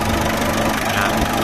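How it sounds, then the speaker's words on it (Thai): A Mitsubishi Strada pickup's four-cylinder diesel idles with a steady, gritty clatter and hum, close up and continuous, with no other sounds over it. "ยนต์ดีเซล4สูบครับ"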